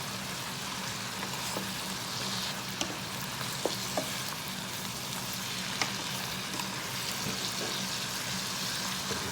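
Zucchini and squash sizzle in a Power XL cooker while being stirred, a steady frying hiss with a few faint clicks and scrapes of the utensil against the pot, close and fairly quiet, with no talking.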